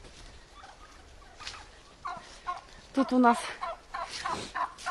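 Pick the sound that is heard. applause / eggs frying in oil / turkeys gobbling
turkeys gobbling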